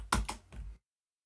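Keys on a computer keyboard are struck three times in quick succession, sharp near clicks as a command is entered at a Debian Linux prompt, followed by silence.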